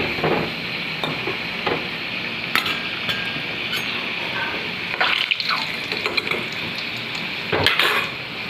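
Red-fried potatoes are lifted out of hot oil in a pan with a metal utensil, steady frying sizzle underneath with several sharp scrapes and clinks of the utensil against the pan.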